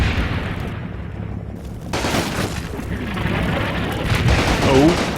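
Artillery spotting round bursting close by in Combat Mission: Battle for Normandy, a WWII Normandy combat game: one sharp, loud boom followed by a rumbling wash of battlefield noise and scattered gunfire.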